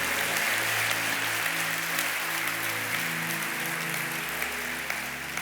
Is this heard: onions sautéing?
no